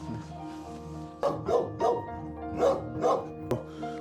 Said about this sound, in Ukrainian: Тут дуже дуже, дуже злюча собака.